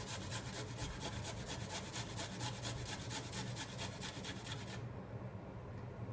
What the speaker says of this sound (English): I basically just cheese grate my garlic pieces